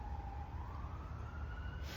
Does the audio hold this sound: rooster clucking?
no